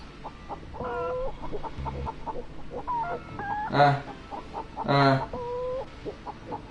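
A chicken in the video game Breathedge clucks in short repeated bursts, with a couple of louder squawks standing out over a faint background hum.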